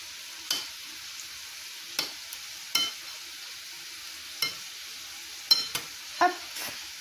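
A spoon works through minced whiting mixed with garlic, ginger and spices, giving a string of soft, widely spaced clicks and wet scrapes over a quiet background, close and unhurried.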